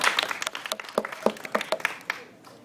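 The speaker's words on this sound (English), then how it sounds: "Can we give this guy a big round of applause?" Brief, sparse clapping from an audience at a science demonstration, individual claps standing out near and fairly quiet before fading out after about two seconds.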